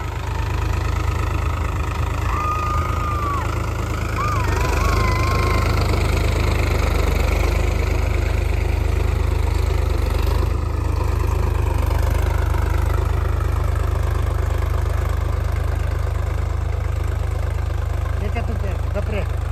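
A tractor engine idles with a steady low rumble throughout, close and loud, with faint voices now and then in the background.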